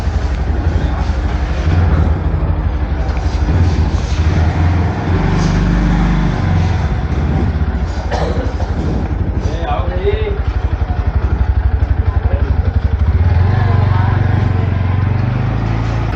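A 2024 Bajaj Pulsar NS160 motorcycle riding, with a steady loud engine drone and heavy wind rumble throughout, a rider's voice talking over it.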